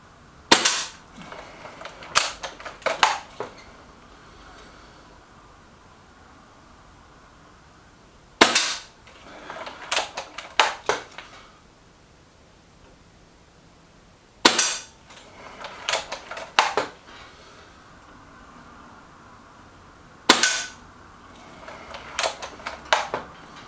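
Reximex Regime air rifle firing RWS Superfield pellets at a centre target: four sharp shots, each followed by a quick cluster of smaller pellet impacts and metallic clicks, repeating about every six seconds with no talk.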